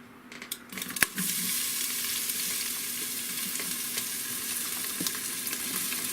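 Peppers, green onion, matchstick carrots and celery hit hot oil in a pan and sizzle loudly, a sharp clatter at the drop followed by a steady, close, continuous frying hiss with occasional pops and stirring knocks.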